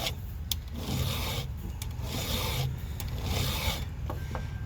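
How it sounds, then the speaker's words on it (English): Steady back-and-forth rasping of a metal file sharpening a chainsaw chain, in rhythmic strokes, close and fairly loud, with brief clicks between passes. "Watch me file a chainsaw."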